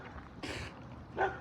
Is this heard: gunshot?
no